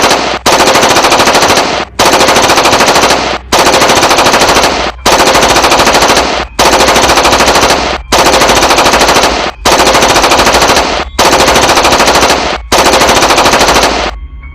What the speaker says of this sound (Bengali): দেখ এখন তোকে আমি গুলি করে মারবো।